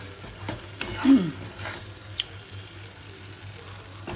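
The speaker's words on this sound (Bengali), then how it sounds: "মশলাটা প্রায় কষেই এসছে, দেখো তেল ছাড়তে শুরু করেছে" Spice paste with bay leaf and cumin tempering fries in oil, giving a soft, steady sizzle with a few light stirring scrapes and one brief louder clatter near the start, fairly quiet throughout.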